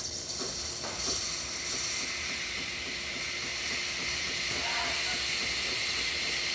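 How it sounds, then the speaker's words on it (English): Breville Bambino Plus espresso machine steam wand steaming: a steady, loud high hiss runs continuously throughout, with faint rumbling underneath and no talk. "We're also going to be using the steamer just to demonstrate how the machine steams."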